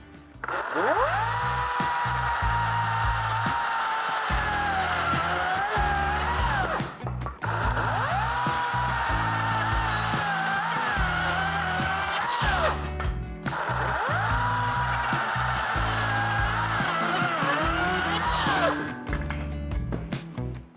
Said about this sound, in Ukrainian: Вставляємо акумулятор та починаємо працювати. Зараз ми пиляємо сосну 100 на 200.